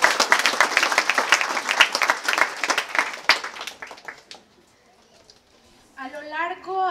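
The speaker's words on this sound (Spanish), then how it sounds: "Fuerte el aplauso" Audience applause at the inauguration of a community kitchen and dining hall, a dense burst of clapping for about four seconds that fades out, followed by a voice speaking.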